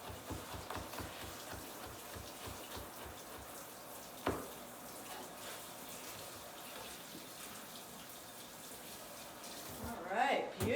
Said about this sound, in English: do a final rinse with water to get off any skin and any seeds that you may have missed